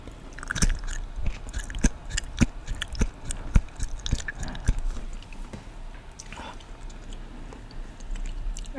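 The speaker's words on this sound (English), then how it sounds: "let's take a bite of just prosciutto" Crunchy prosciutto being bitten and chewed close to the mic, a run of sharp crisp crunches at an irregular pace that fade into softer chewing.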